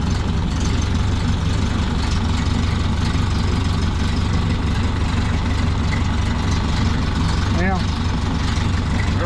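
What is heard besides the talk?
1930 Ford Model A engine idling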